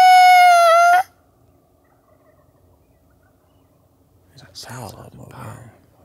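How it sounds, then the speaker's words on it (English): A loud, drawn-out gobbling call from wild turkeys opens, then quiet, followed by a burst of rough, overlapping gobbles from several birds nearby near a creek. "They were kind of feeding off each other, gobbling a bit more."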